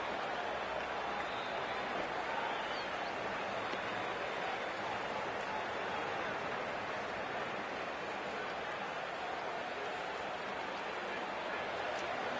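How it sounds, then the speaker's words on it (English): Stadium crowd in a PS5 cricket video game, India versus New Zealand final, a broad continuous roar of cheering and applause that holds steady at moderate level throughout, with no clear breaks. "The crowd is electric right now."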